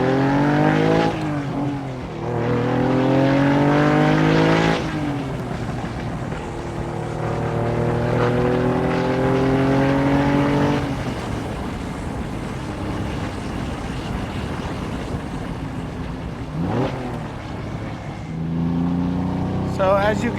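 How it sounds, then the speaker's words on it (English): A 1972 Ferrari 246 GT Dino cruises in fourth gear on back roads, its engine droning loud and steady from the cabin with rising and falling harmonics as revs shift, and a passenger speaking over it at times. "Fourth gear, cruising through some of the back roads."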